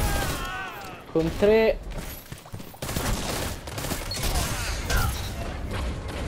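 Rapid burst-fire weapon shots in Destiny 2 crackle in quick clusters amid the game's mechanical clatter, with someone talking over the shooting throughout.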